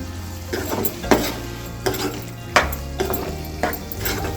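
A spoon scrapes and clacks against a pot while mushroom curry with chili powder is stirred, a low sizzle running underneath and sharp knocks falling roughly every half second to second.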